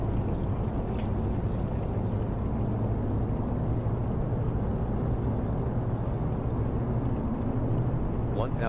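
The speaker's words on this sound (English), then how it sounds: "Let's run both engines up to 1700 RPM." Twin aircraft engines in a flight simulator game run up together to 1700 RPM, a steady, even drone that holds without letup, with faint cockpit sounds above it.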